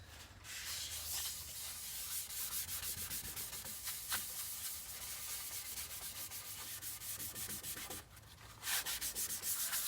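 Steady, close rubbing of sanding sealer onto a wood-turned piece, a continuous dry scrubbing texture with rhythmic strokes, briefly pausing before resuming.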